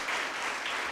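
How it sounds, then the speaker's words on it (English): A school debate audience applauds junior teams from a girls' and a boys' school, a brief, dense burst of clapping at moderate level without speech. "A round of applause for both of them."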